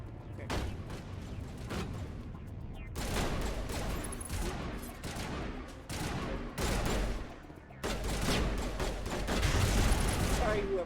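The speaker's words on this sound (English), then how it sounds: "these guys keep firing, they won't pop my gun. They're gonna shoot me in my shield." Sustained enemy gunfire striking the player's shield in the video game Mass Effect, dense bursts of rapid shots and impacts in several waves with brief gaps between them, moderately loud in the game mix.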